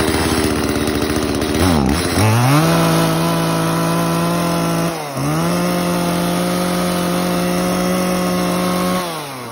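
A used Japanese chainsaw, a mid-range Echo, Makita or Shindaiwa type model, starts and idles loudly close by, with a brief rev at start and a short dip midway, steady two-stroke buzz throughout.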